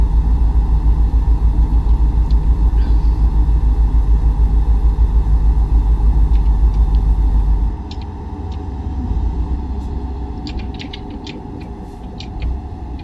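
An idling, rumbling truck engine drones steadily on an interstate in American Truck Simulator, loud and low at first and then dropping to a quieter rolling hum with faint clicks.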